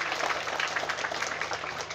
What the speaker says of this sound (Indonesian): Tepuk tangan dulu dong buat panitianya luar biasa.